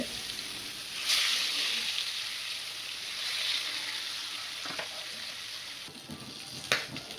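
Fish frying in a pan, a steady soft sizzle of hot oil with brief louder spits and crackles now and then, heard alone at close range.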